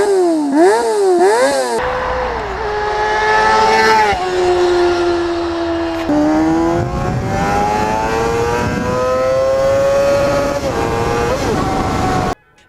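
A high-pitched inline-four sport motorcycle engine revs hard repeatedly toward nearly 20,000 RPM, rising and falling before climbing into a long sustained scream, loud and close.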